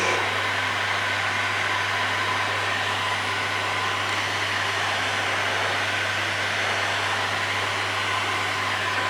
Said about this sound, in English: So just heating it up